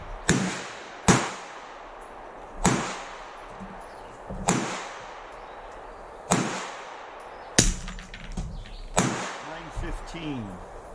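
Suppressed gunshots from a Ruger LC 45 carbine in .45 ACP, about eight sharp cracks spaced roughly a second or more apart, each ringing briefly, loud and close.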